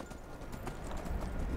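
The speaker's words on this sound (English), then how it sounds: "I love convenient horses." Horse hooves clip-clopping in the video game Skyrim, a steady run of close, even footfalls against a continuous low game backdrop, with no talk.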